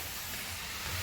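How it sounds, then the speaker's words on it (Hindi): Rice frying in a pan with onion, tomato, chili and salt gives off a steady, close sizzling hiss for about a second, with no talking. "हम कर रहे हैं चावल फ्राई"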